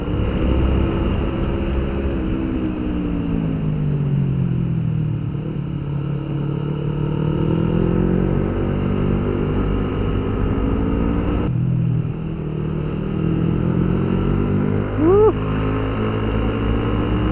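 A 2020 Yamaha Aerox 155 scooter on a test ride hums with a continuous engine drone whose pitch sinks and climbs as the throttle changes, with wind noise and a brief higher whine near the end.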